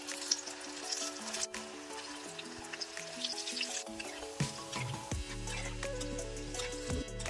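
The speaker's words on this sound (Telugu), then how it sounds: "వేసుకొని ఆయిల్లో గోల్డెన్ బ్రౌన్ కలర్ వచ్చే వరకు డీప్ ఫ్రై చేసుకోవాలి." Crispy corn pakoda balls deep frying in hot oil, a soft continuous sizzle with scattered bubbling pops and occasional clinks, fairly quiet and steady throughout.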